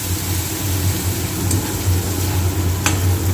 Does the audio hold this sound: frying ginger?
yes